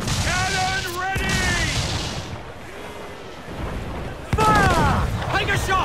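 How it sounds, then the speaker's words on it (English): Ship cannons fire during a naval battle in Assassin's Creed IV Black Flag, with heavy booms and rumbling blasts under shouted voices and a dense background of battle noise. "Fire! Cannon ready!"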